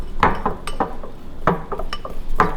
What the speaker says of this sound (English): you're just going to go ahead and stir that up until you get a batter type consistency